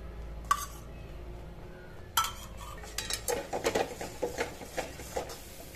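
A spoon knocks and scrapes against a kadai (pan) while stirring a thickening coconut burfi mixture with ghee, making a run of close, irregular metallic clinks that cluster densely toward the end.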